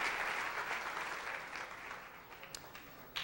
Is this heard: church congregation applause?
yes